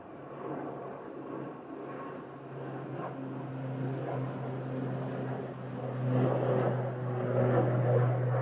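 An airliner accelerates down the runway on its takeoff roll, a close, sustained engine roar with a low droning hum that builds in loudness toward the end, no one talking over it.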